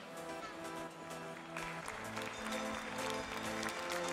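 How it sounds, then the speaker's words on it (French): Audience applause at a contest ceremony, a steady wash of clapping held at an even level throughout, with faint tonal sounds running underneath. "on peut applaudir Guerlain, merci."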